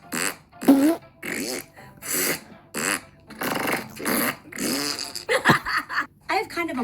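A voice imitates a fart with a series of wet, sputtering bursts in quick succession, loud and close, mixed with vocal noises.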